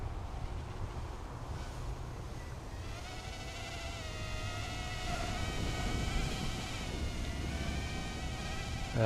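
An MDX80 brushless micro quadcopter flies outdoors with a continuous high, whining motor buzz that shifts in pitch as it twitches against gusting wind, and wind rumble runs underneath.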